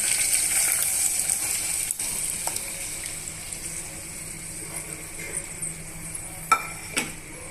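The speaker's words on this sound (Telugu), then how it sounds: "ఇప్పుడు పోపు బాగా వేగిపోయిందండి ఇప్పుడు మనము పప్పు ఇందులో వేసేస్తున్నాము" Lentils are added to a sizzling tempering in a pan for cabbage dal, with a soft sizzle under scraping and a couple of sharp clinks near the end.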